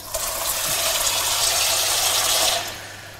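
Clean water poured for mixing plaster for a panel moulding, a steady broadband splashing rush lasting about two and a half seconds at close range before tailing off, with no talk.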